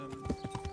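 Horse hooves clip-clop in a steady, evenly spaced run of about five close, moderately loud beats while a rider travels on horseback in Kingdom Come: Deliverance, with a faint steady tone beneath.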